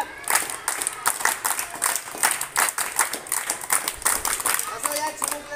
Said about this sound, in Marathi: सर्वांचं एकदा आपण आनंदायी पद्धतीने टाळ्या वाजवून स्वागत करूया